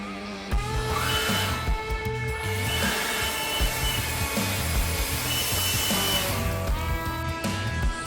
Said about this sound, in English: it's time to hit the tunnel with the wire wheel of death